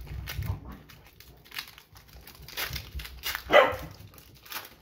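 A dog indoors gives a few soft barks and yips among light crinkling and shuffling noises, with one sharper louder burst near the end; no talking.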